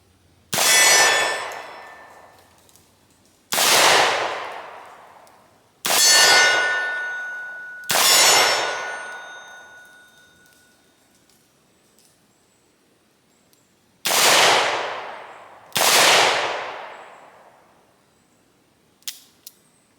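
Six loud, sharp gunshots from a Smith & Wesson M&P Model of 1905 revolver fired at targets outdoors, spaced a few seconds apart with ringing decays, plus a faint click near the end.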